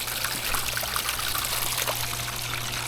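Water from a small fairy garden pond pump trickles steadily and continuously, a close, even splashing dribble with a low hum underneath and no talking.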